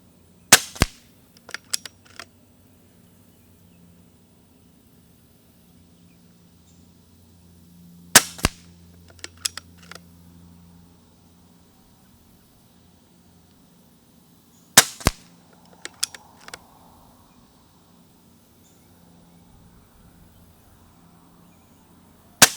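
Silenced BSA R10 SE .22 air rifle, 27 foot-pounds, fired at a range in regular intervals: three crisp, muffled shots each followed by quick distant pellet-strike ticks, in a quiet outdoor setting.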